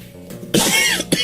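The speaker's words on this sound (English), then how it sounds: "I did not expect to be coughing today" Two sharp coughs, the first harsh and drawn out, the second short, close up after a quiet moment.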